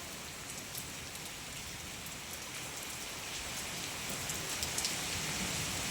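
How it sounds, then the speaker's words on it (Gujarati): Steady rain patters softly on surfaces in a village during a storm with lightning, an even hiss with scattered drops throughout and no voices. "વરસાદ પણ ચાલુ થઈ ગયો હે"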